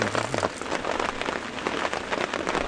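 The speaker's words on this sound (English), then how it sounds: "It's pouring." Heavy rain pours down steadily on a morning safari drive at Djuma and Arathusa, South Africa, a dense, continuous hiss of drops hitting surfaces, loud and close with no voices.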